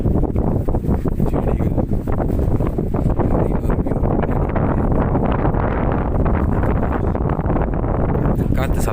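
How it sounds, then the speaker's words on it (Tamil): Wind blowing hard outdoors at night behind a house among trees and plants, a continuous loud roar and buffeting rush that batters the microphone throughout. "காற்று சத்தம் உங்களுக்கு கேட்குதா?"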